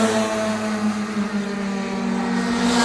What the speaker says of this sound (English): There's a junior karting race that's going on currently,